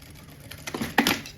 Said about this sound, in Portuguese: eu vou fazer uma costura aqui, ó, embaixo dele, tá bom?